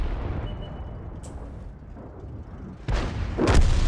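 In World of Tanks, a tank cannon round strikes a house in a sharp, heavy boom, with a second blast soon after, both rising above a constant low engine rumble, loud and close.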